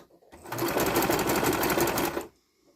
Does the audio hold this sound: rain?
no